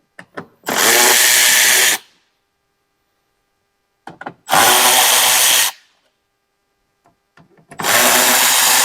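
A power tool spins out 5.5mm bolts on a Ford E-Series in three loud, steady whirring bursts of about a second each, with clicks and short trigger blips between them and quiet gaps in between.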